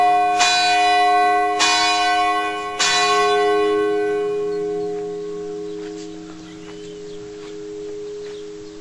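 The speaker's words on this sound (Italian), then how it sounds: "il campanile che ha appena battuto due rintocchi" A church bell tower in Contigliano strikes two chimes, loud and ringing, then the tones hang and slowly fade into quiet outdoor air with faint birdsong.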